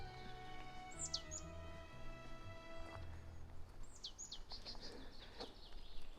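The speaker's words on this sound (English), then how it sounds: "all you can hear around here is birds" Birds chirp and whistle in short, sweeping calls against a steady background hum in the French Pyrenees, several calls spaced across the clip, fairly faint.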